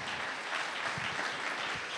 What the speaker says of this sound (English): we can clap about that